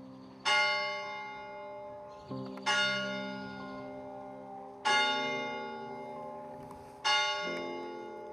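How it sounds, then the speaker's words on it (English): Automated church bell at St Coman's Church in Roscommon tolls four times at even intervals, each strike ringing out with a long, shimmering decay that overlaps the next, clear and fairly close. "the bell was automated, and it rings on a regular hourly basis"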